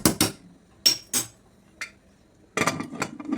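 A pressure cooker lid is set on and locked while cooking palak pulao, giving a series of close, sharp metallic clanks and scrapes, a few separate knocks, then a quick cluster of rattling clinks.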